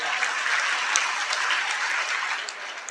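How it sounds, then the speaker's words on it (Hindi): Applause from the audience at a poetry recital (mushaira), a dense, even roar of many people clapping that holds steady throughout without any talk over it. "इस बात के लिए एक जोरदार ताली बजाइए आप सारे लोग।"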